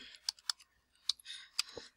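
Typing on a computer keyboard, a quick burst of close, crisp key clicks in an uneven rhythm with brief pauses.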